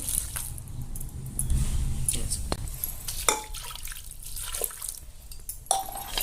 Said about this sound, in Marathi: एक ग्लास पाणी टाकणार आहोत उकडण्यासाठी